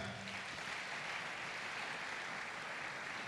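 A church congregation applauds together after a scripture reading, a dense, steady wash of clapping filling the space evenly for a few seconds with no voices standing out.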